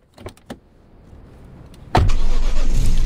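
A car engine in the video game Driving Home cranks and catches, settling into a steady loud idle after a couple of faint clicks.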